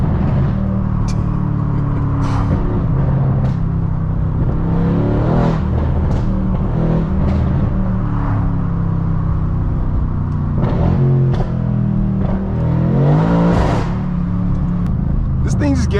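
A 650 hp Mercedes-AMG C63 sports car engine revving and accelerating from inside the cabin, a loud continuous deep rumble with repeated rising surges under someone talking throughout.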